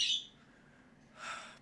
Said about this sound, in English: Pardon the birds.